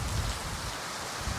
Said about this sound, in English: Rain is coming off the gutters.